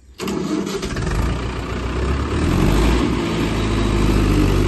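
A Mahindra 575 tractor engine rumbling close and loud while ploughing a field, kicking in abruptly and then running at a steady, heavy drone that builds slightly, with no talking.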